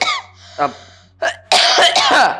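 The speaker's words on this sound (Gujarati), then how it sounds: "આ જો ખાંસી આવવા માંડી છે મને" A few harsh coughs in quick bursts, close by, separated by short pauses, ending in a rougher, longer coughing fit.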